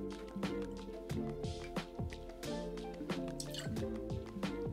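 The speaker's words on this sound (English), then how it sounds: "Grab a shaking tin, and we're gonna start by adding a 1/2 ounce of lemon juice." Half an ounce of lemon juice poured into a metal cocktail shaking tin for a French 75, heard as close, quiet liquid drips and splashes in a rapid irregular rhythm, with no talking over it.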